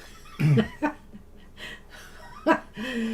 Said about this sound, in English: I have asthma, so occasionally I do have some coughing or wheezing.